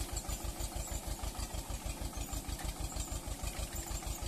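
A tractor engine idles with three cultivators hitched behind it on a sugarcane farm. Its steady, rhythmic low chugging repeats evenly and sounds fairly faint, with no talk.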